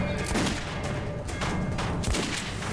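Gunfire from a weapon in Metro 2033 Redux: a dense, continuous burst of rapid shots with booming low impacts, loud and up close throughout, with no pauses.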